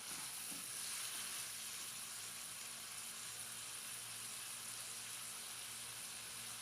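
Boneless chicken pieces fry in a pan with a constant bright hissing sizzle, close and even throughout, with a few faint stirring knocks near the start and no speech.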